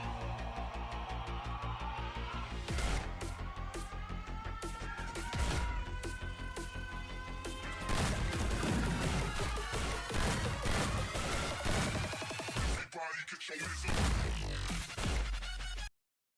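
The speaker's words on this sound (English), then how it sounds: "Now let's have a look on our video after adding all the gun sounds." Gunshot sound effects in a Free Fire video game montage, with rapid sharp shots and bursts of fire layered over loud beat-driven music and ending abruptly.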